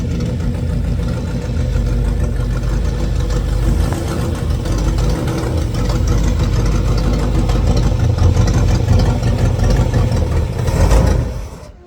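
A 1960 Pontiac Bonneville engine runs steadily at a loud, rough idle with a deep rumble, holding close and constant before cutting off abruptly at the end.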